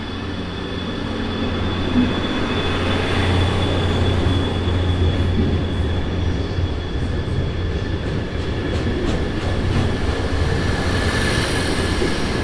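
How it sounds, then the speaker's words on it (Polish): A train rolls steadily through Kraków Główny station with a continuous heavy rumble, punctuated by high, ringing wheel squeals. It is loud and close, with no voices. "to jest chyba pociąg do Rzeszowa."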